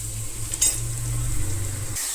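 Mushrooms frying in a pan with salt for a pepper dry dish, a steady close hiss of sizzling with one light clink of a utensil early on, then the sound cuts off abruptly.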